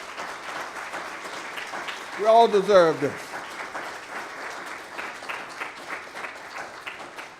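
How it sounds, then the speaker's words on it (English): Audience applause for members of a prostate cancer research network at a conference gathering, steady clapping throughout with someone speaking briefly over it partway through. "Give them a round of applause."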